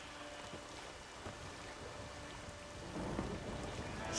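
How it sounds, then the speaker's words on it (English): Stormy weather in The Witcher 3 on Skellige: steady heavy rain with low rolling thunder and a few sharp cracks of lightning, the downpour growing louder toward the end, with no talking. "Then all of a sudden lightning started pounding down."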